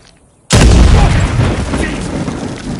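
A heavy explosion booms suddenly in an Uncharted 4 scene of blasting for excavation, a deep loud blast with rumbling debris that slowly decays after a quiet start.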